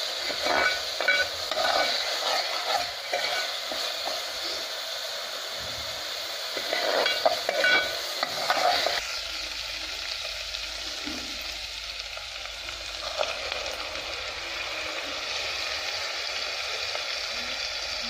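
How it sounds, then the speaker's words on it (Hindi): Steady sizzling of a garlic, ginger and onion paste frying in a hot pan, crackling and hissing close by with occasional stirring, no voices. "लहसुन अदरक प्याज के पेस्ट को 2 मिनट तक भूना जाएगा।"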